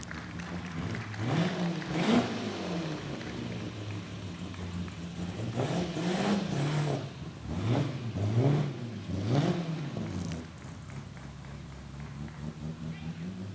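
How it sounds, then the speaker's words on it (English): A 1929 Ford Model A at an outdoor concours show rumbles and revs in several swelling bursts, moderately close, with a person talking over much of it. "Fun car, has a lovely rumble to it."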